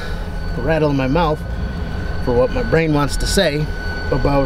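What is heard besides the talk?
trains moving in a nearby train yard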